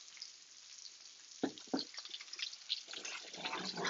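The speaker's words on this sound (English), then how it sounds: "Let's put a little bit of olive oil in there." Olive oil poured into a hot pan on the stove gives a faint, close, spattering sizzle with a couple of small pops, quiet and steady, with no voices.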